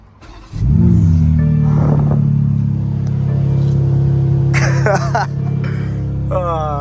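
A 1000-horsepower BMW M4 Competition in demon mode roars up abruptly, then holds a loud, deep, sustained engine drone close by, with a few sharper mechanical sounds near the end.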